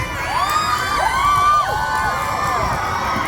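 A big crowd at an outdoor political rally in Batangas cheers and shouts loudly, with high voices and whoops rising and falling in a continuous roar.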